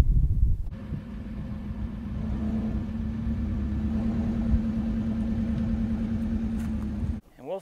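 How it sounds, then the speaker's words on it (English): A truck engine runs with a steady low rumble as the truck rolls slowly forward onto a homemade wheel chock, continuing evenly before cutting off abruptly near the end. "now we're gonna roll the truck forward and see how it reacts."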